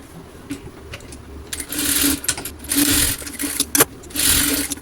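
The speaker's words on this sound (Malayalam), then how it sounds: "അതിനുശേഷം നമുക്കിതിൻ്റെ ഈ ഒരു സൈഡ് സ്റ്റിച്ച് ചെയ്തെടുക്കാം" A sewing machine runs in several bursts, stitching the side seam of a silk skirt, with short pauses between each close, steady whirring run.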